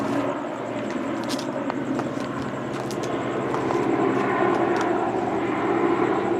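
An LAPD police helicopter passes overhead in Los Angeles, a steady rumbling drone that swells slightly louder toward the end, with a few faint clicks on top and no talking.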